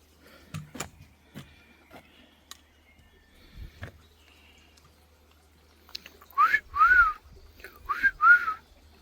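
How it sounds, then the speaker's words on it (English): A person whistles twice, each a pair of short sliding notes, after a stretch of quiet outdoor sounds by a flowing river with scattered clicks and knocks. "I'm trying to whistle, but it's not happening."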